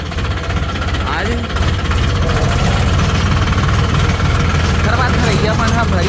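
A tractor engine idles close by in a farm field, loud and continuous, with a low rhythmic chugging knock and vibration throughout.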